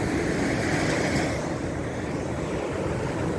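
Sea swell and surf breaking on a beach during surfcasting, heard as a steady, loud wash of broadband roar with wind noise throughout and no voices.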